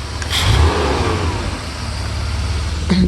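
A 1991 Mercedes 300E engine runs at a steady, smooth idle close by, a continuous low hum with no talking over it.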